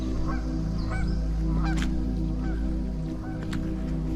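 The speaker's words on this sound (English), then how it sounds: "Just scared one of the Canada geese." Canada geese honking loudly and repeatedly nearby at beaver ponds, several harsh calls overlapping over a constant low engine-like hum.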